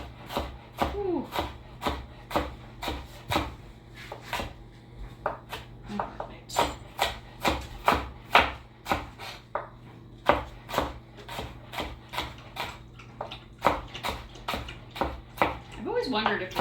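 Knife chopping a strong onion on a wooden board, a steady run of sharp, close, evenly spaced knocks over about sixteen seconds, with a speaking voice breaking in now and then.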